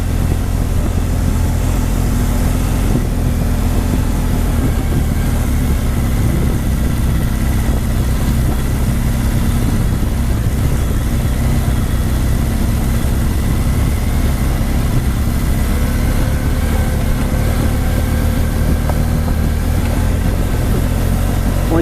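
BMW R1200GS Rallye motorcycles ride down a dirt trail, their engines a loud, steady, rumbling drone that runs without letup from start to finish, with no talking.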